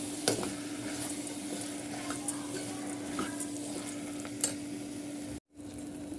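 Soft sizzling of ground masala paste frying in a pan for chana kurma, with occasional scraping and stirring clicks from a utensil, close and steady, ending with a brief gap.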